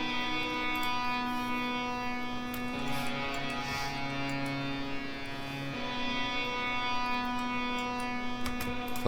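A guitar drenched in heavy reverb rings with sustained, washed-out tones in the background of an electronic music track, steady and moderately loud throughout.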